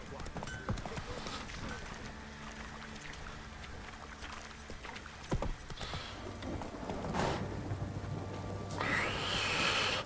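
Horse hooves clip-clopping at a steady gallop in a video game, with a voice talking over the hoofbeats throughout.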